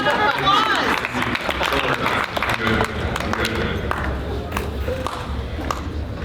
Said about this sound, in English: Another round of applause for Bradley